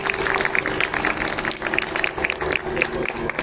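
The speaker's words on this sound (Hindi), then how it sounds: "कृपया इन कलाकारों के लिए एक बार ताली बजा दें आप लोग" Audience clapping for classical musicians at the Subah-e-Banaras morning concert in Varanasi, a loose, uneven patter of hands close by that holds for several seconds.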